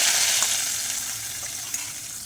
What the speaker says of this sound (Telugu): ఈ తాలింపును మనం రసంలోకి వేసుకుందామండి.